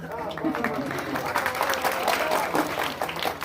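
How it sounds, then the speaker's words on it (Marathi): Enthusiastic audience clapping fills a hall during a Marathi devotional kirtan program with pakhawaj accompaniment, a dense, steady wash of many hands at moderate volume, continuous for the whole stretch with a faint murmur underneath. "जोरदार टाळ्या होत्या, कंजूसी करू नका."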